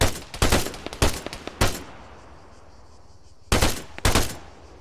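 Arma 3 gunfire rings out in loud bursts: several quick volleys of shots near the start, a pause filled with echoing tail, then two more sharp bursts toward the end.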